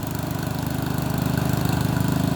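An old Craftsman 14HP OHV riding lawn tractor engine runs steadily, a close, loud, rhythmic chugging drone with rapid even firing pulses and no voices.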